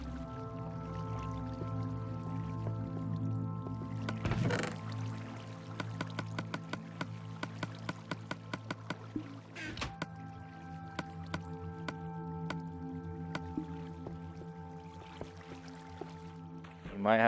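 Water flows in Minecraft over a low background hum. Rapid dripping and splashing clicks come in bursts, with a few louder gushes.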